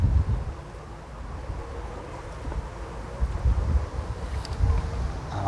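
Steady wind buffets and rumbles across the microphone outdoors at Dudley Zoo and Castle, with low gusty roaring that rises and falls throughout.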